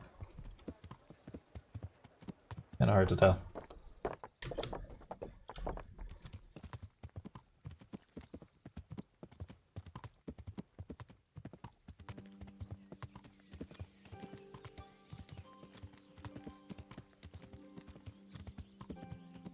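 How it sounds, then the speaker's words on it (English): A horse in the medieval game Kingdom Come: Deliverance clops along with steady hooves and breathes out, with one louder burst early on, then continues under faint music while someone talks over it. "It might even actually just be the horse exhaling now I think about it."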